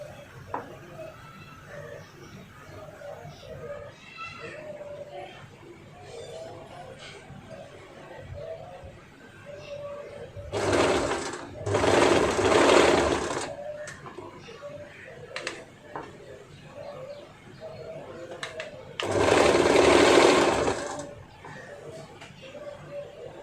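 A sewing machine stitching kameez sleeves runs in two short bursts of a few seconds each, separated by a quieter stretch of low room sound.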